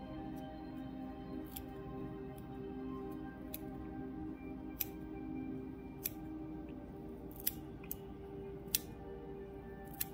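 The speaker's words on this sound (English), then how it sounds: "I'm just gonna come in with a different pair of scissors here." Small scissors snip and trim materials while an Atlantic salmon fly is being tied, sharp faint clicks spaced irregularly over a quiet room hum.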